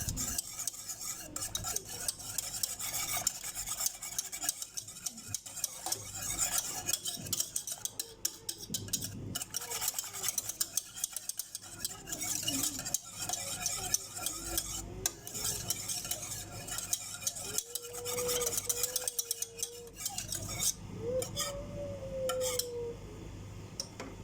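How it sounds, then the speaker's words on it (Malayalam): A spoon stirs a cornflour mixture in a pan for kunafa, scraping and clinking continuously and close up, with soft liquid swishing throughout and no talking. "ഇനി ഇത് കട്ട പിടിക്കാതെ നന്നായി മിക്സ് ചെയ്തെടുക്കുക."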